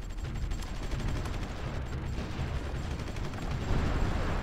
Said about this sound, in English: at least the artillery got one shot in there